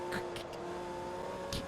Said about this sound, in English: Like cars are still going around the track.